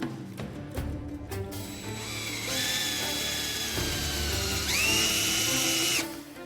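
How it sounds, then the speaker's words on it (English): A power drill whirs in rising, sustained bursts with high whining tones, drilling a wooden dowel into a joint, starting and stopping a few times, close by with no talking. "you can actually drill the dowling in"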